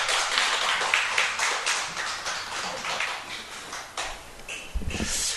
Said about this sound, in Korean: 박수 한번 하죠